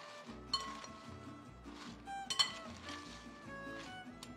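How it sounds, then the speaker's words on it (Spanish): Sweet potato salad is mixed in a bowl, with quiet scraping and clinking of a utensil in irregular strokes, faint and close. "Vamos a mezclar un poco."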